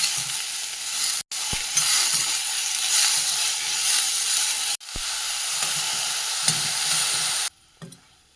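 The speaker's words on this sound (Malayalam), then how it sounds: "ഇപ്പം നമ്മുടെ സവാളയും തക്കാളിയൊക്കെ നന്നായിട്ട് വഴന്നു" Chopped onions and tomatoes with salt and turmeric sauté in a pan, sizzling loudly and steadily, broken by two brief cuts and ending abruptly.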